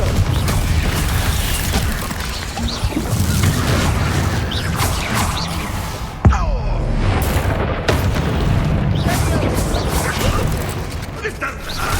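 Confringo blast spells from the Hogwarts Legacy video game go off repeatedly, booming explosions over a constant loud mechanical din, with one sharp bursting hit in the middle of the 12 seconds.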